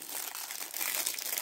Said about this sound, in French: je suis désolée pour le bruit du papier